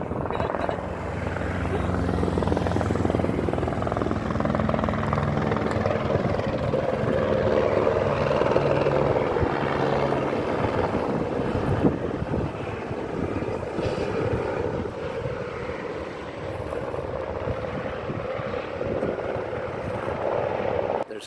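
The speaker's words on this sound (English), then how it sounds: "the choppers are picking up water because they're circling and then they're coming back out over here" Firefighting helicopters circle overhead during a wildfire in Portugal, ferrying water from a nearby reservoir, their steady, loud rotor drone continuous throughout with a rumbling low end and slight swells as they pass.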